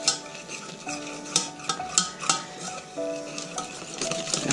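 Milk is stirred into a sauce in a pan: a spoon clinks and scrapes against the metal with a quiet sizzle underneath, and sharp taps repeat at an uneven pace.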